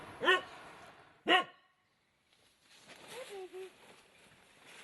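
A dog tied up behind an apartment building barks twice, sharp and close, then a quieter stretch follows with faint voices talking.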